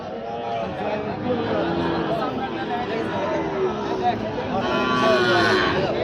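Sahiwal bull calves low at a livestock market, their moos rising over a steady crowd murmur as people chatter close by throughout.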